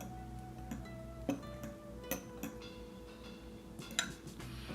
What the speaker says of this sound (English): Take your fork and just mix it around until it dissolves into there.